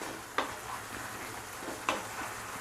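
Prawn masala frying in coconut oil in a pan, a steady sizzle with two sharp scrapes of a small plastic spoon as the mixture is stirred, close by and without talk.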